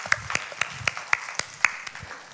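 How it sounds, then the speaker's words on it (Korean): Steady, evenly spaced hand claps sound at a church sermon, about four per second, crisp and fairly close, with little else beneath them. "여러분, 박수."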